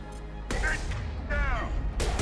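Gunfire in the sci-fi game Mass Effect arrives as a few heavy blasts spaced apart against a background of game effects and electronic whines, moderately loud, with no speech.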